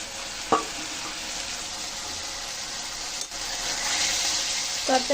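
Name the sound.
flat beans frying and being stirred in a pan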